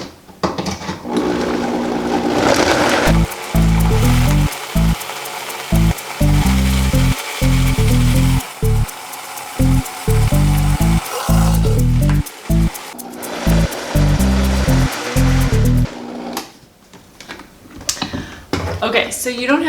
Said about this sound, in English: all we have to do is blend it